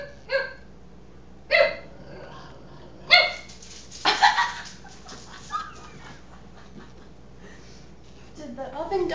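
Several sharp barks from a dog, spaced apart, rising in a brief cluster near the middle, with people talking quietly in the background.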